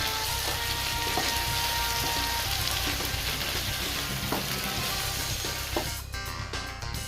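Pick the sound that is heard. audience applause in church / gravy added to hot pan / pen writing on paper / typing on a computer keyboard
gravy added to hot pan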